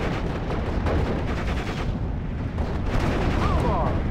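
Gunfire and explosions in the Steel Division Normandy 44 WWII strategy game, dense continuous battle noise with repeated shots and booms and brief spoken game voice lines mixed in.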